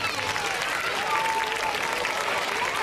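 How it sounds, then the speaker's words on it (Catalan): Loud, steady applause from a crowd welcoming student performers at a school Christmas show, with scattered voices and a few whoops mixed into the continuous clapping. "Anem a rebre-los amb un fort aplaudiment."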